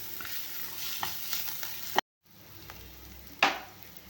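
Onion, garlic, green chilli and curry leaves are sautéed in a pan for ridge gourd gravy. A steady oily sizzle runs under the scraping strokes of a stirring spoon, with a brief gap midway.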